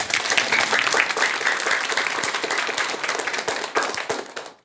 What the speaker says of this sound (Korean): 뜨거운 박수 한번 주시 바랍니다